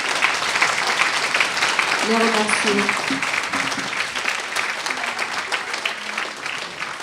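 Audience applause for the speakers of a round-table on bioethics fills the room steadily from start to finish, dense and sustained, with a voice briefly speaking over it partway through.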